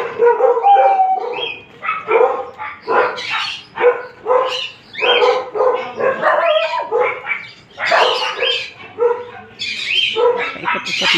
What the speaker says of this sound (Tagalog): Ayan ang aking aso.